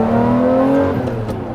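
A Lamborghini Murcielago's engine revs loudly and close, a steady tonal roar that holds and then eases slightly, with no voices.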